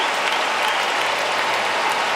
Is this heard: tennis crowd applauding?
yes